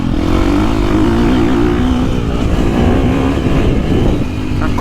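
A KTM 350 four-stroke dirt bike engine revs hard while being ridden, a loud, close, continuous roar that rises and dips as the throttle works through the low and mid range.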